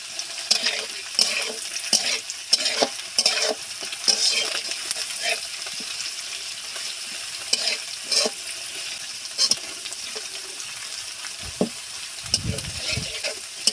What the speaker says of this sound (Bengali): আদা রসুন কিছুক্ষণ এইভাবে নেড়ে চেড়ে নিয়ে আমি পেঁয়াজটা দিয়ে দেব।